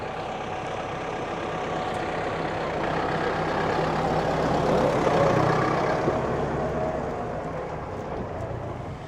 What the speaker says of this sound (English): Oh, there's a tractor coming, so I'm going to have to wait for the tractor to get out of the way now.